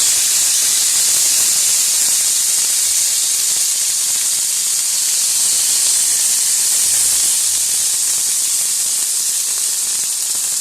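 Chicken tikka sizzles steadily as it is brushed with spiced oil, a loud continuous hissing that runs unbroken from start to finish with no talk over it.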